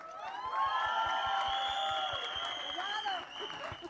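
Crowd at a film trailer launch for Mirzapur The Movie, clapping with cheers and whoops rising over a steady thumping beat, loud and dense before easing slightly toward the end.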